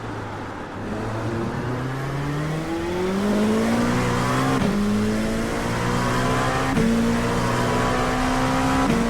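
LMP2 prototype race car in a racing game, wet Hockenheim circuit, engine droning loud and steady at full throttle with rising pitch through gear changes, continuous close in-car roar without talk.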